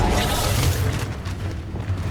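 A Reducto blasting spell explodes in Hogwarts Legacy, a loud, close, broad burst with a deep rumbling body that churns and slowly subsides over about two seconds.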